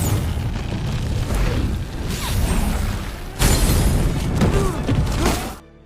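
A gasoline trap detonates in an action film scene, loud booming blasts with crashing and whooshing debris in two heavy surges, ending abruptly in silence.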